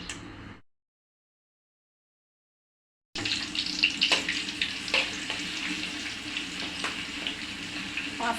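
Onion and garlic frying in a karai, a steady loud sizzle with crackling bursts that starts after a few seconds of silence and continues without talk.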